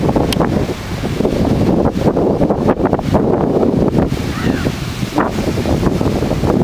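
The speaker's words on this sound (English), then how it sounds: "The waves are terrible." Small ocean waves wash in at a beach beside a long pier, their surf hiss blending with strong wind buffeting the microphone in an unbroken rush.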